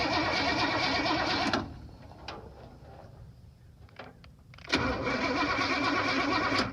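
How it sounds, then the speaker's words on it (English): A C10 pickup truck's engine cranks over on its starter, hot-wired at the starter wire near the headers, in two loud sustained bursts separated by a quieter pause with faint clicks. "so we're turning over"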